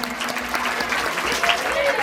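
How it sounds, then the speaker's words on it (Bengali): An audience at a school golden jubilee stage event claps loudly, a dense burst of applause with a voice partly audible over it. "স্যার প্লিজ একবার জোরে হাততালি।"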